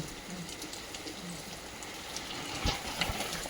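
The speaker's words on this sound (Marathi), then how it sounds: "आम्ही जस्ट घरी आलो, जोरात पाऊस आला" Dense, steady patter of rain falling on surfaces, with a few louder drips and splashes standing out near the end.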